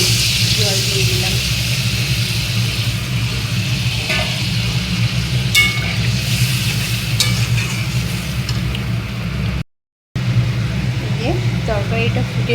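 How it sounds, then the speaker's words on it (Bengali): Water just added to fried ingredients for a bhetki fish curry, giving a loud, continuous sizzle and bubbling with occasional utensil clinks, a low steady hum underneath and a brief cut near the end. "এবার আমি জল দিয়ে দিলাম"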